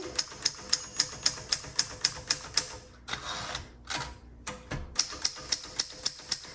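Rapid keystrokes on a 1960 Royal Diana manual typewriter, sharp close clacks in a steady rhythm, broken by a brief pause of softer mechanical rattling before the typing resumes.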